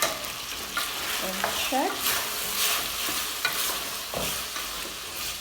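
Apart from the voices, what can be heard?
spice-free pork cooking in a pot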